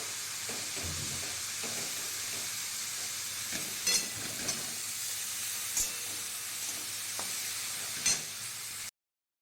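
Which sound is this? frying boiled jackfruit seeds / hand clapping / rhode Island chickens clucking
frying boiled jackfruit seeds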